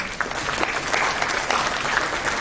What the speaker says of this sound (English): I think that deserves a round of applause for sure.